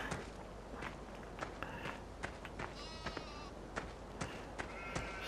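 Sheep bleating on a farm in Farming Simulator 15 on PS4, several repeated bleats over steady footsteps and a dense background hum.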